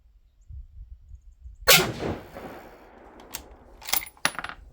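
A single sharp rifle shot from a B14 HMR chambered in 6.5 PRC during load development cracks out about a third of the way in and rings off. A few small metallic clinks follow near the end.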